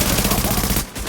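Dense, loud bursts of automatic gunfire from the video game The Division, rapid and continuous up close before a brief drop near the end.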